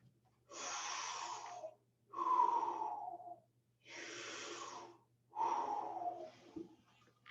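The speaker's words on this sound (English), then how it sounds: "One of the easiest tools is learning how to do straw breathing" Slow belly breathing with lips pursed like a straw, demonstrated for pregnancy self-care: four long, close breaths, each a soft airy rush lasting about a second, separated by short pauses, with no talking.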